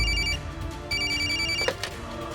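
A telephone ringing with repeated electronic bell trills in close, steady bursts, joined by a dramatic TV-serial music bed.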